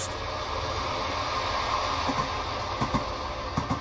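A video game train, Train Sim World Rapid Transit, rumbles steadily along the track using generic external audio, wheels clicking in a rhythmic clack toward the end, heard from outside at moderate volume.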